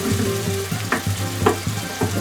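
Tinned plum tomatoes go into a hot pan with a burst of sizzling, then steady frying hiss broken by several rhythmic scraping stirs and a low repeating hum beneath, no speech.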